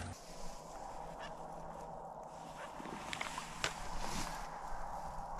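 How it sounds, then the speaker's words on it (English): Wild geese or ducks honk in a flock somewhere in the mountains during a duck hunt, faint and distant calls scattered over a steady outdoor background hiss. "Oh, a bunch of birds, dude."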